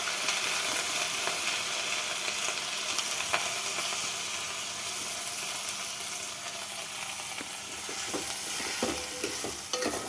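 Onions dropped into hot oil for a pulao sizzle loudly and steadily, with stirring scrapes throughout and no voices.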